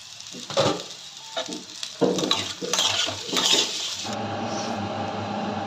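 A metal pot lid lifted off a pan of cooking potol curry in a home kitchen, a few clanking scrapes and clinks of metal on metal, then a steady soft sizzle of the curry left underneath.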